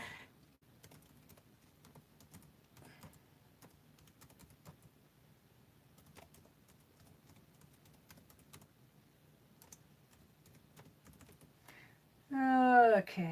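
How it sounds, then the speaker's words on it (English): Slow, sparse keystrokes tapped on a computer keyboard, close and quiet, with a voice speaking briefly at the very end. "I type very slowly"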